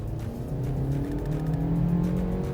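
A 2017 Mazda 2 1.3 engine hums steadily and rises in pitch as the car speeds up, with road noise throughout and no voices.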